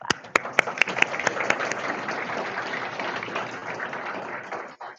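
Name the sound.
audience applause at graduation ceremony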